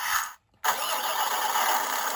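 Simulated engine sound from the speaker of a WPL C54 Land Cruiser RC car, a continuous electronic engine tone cut by a short silence before it resumes at a steady level.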